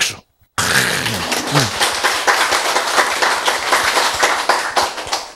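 After a brief silence, a church audience bursts into loud, close applause, rapid overlapping claps sustained for several seconds at an even level.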